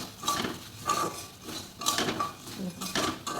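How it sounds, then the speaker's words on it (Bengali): Puffed rice and roasted peanuts tossed together in a metal pan for a homemade evening snack, giving repeated scraping clinks and rustling stirs in steady bursts, close and fairly loud, with no talk. "মুড়ি আর বাদাম এখানে আমি ভালো করে মিশিয়ে নেব"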